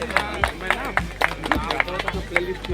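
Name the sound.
audience applause at award function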